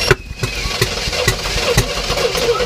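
A 1967 Oldsmobile Toronado project car's engine cranks and fires up, giving loud, close, rhythmic combustion pulses that settle into a rough, uneven running sound with no talk.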